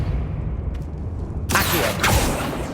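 Depulso force spell cast in Hogwarts Legacy lands as a sudden loud whooshing blast that cuts in after a low rumbling stretch, then rings on with bright crackling noise, no talk heard.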